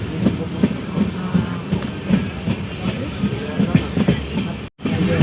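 A train crossing a bridge near Malda on the Berhampore to New Jalpaiguri route gives a steady loud rumble with rhythmic clickety-clack from the wheels, heard from inside. Near the end it cuts to silence for a split second.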